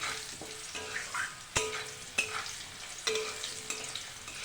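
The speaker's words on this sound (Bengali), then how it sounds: "ভালো করে ভেজে নেব।" Potatoes fry in oil with turmeric, salt, black cumin and white cumin, a soft steady sizzle broken by several sharp clicks and scrapes of a stirring spoon against the pan, heard close with no talking.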